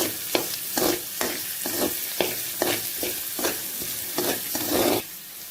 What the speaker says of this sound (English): Okay, next we add in the onions. I've already chopped them. Okay, just stir fry this.